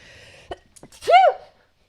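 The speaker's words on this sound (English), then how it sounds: "That's the second time I've sneezed today." A single sharp human sneeze, preceded by a few soft breaths and a quick inhale, close and clear in a quiet room.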